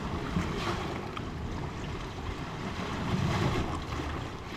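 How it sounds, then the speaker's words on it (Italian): Ocean waves wash and churn against a rocky shore on the Lanzarote coast, a steady broadband roar with wind buffeting the microphone and a slight swell of surf toward the end. "Adesso arriva un'onda proprio forte."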